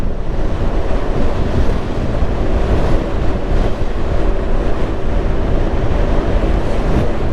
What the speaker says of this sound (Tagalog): Pero presko hangin.